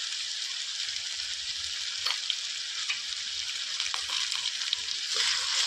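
Spices with salt, turmeric and sugar roasting in hot oil, a steady close hiss of frying that runs the whole time with a few small stirring clicks and pops.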